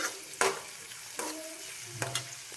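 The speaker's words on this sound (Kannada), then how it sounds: "ಉಳ್ಳಾಗಡ್ಡಿ ಸ್ವಲ್ಪ ಫ್ರೈ ಆಗ್ಬೇಕು ಇದು." Steady sizzling of onions frying with a few sharp clinks and scrapes of a spoon stirring in a pan, no voices.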